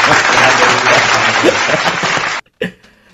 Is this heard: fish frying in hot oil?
no